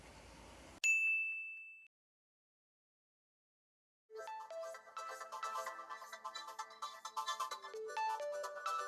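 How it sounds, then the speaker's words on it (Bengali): A mobile phone chimes once with a bright ding, falls silent for a couple of seconds, then a loud melodic ringtone plays on continuously. "ওস্তাদ ফোন দিয়েছে।"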